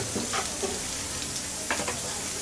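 Ash gourd frying and being stirred in hot oil in a pan, a steady sizzle with brief scraping stirs, close and continuous with no talk.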